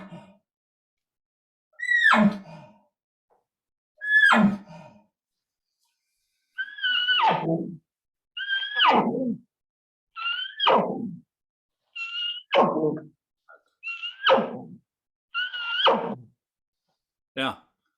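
Elk chuckle calls voiced through a tube, about nine short descending grunting notes spaced in a loose series with pauses between them, close and fairly loud, a human voice imitating the bull elk.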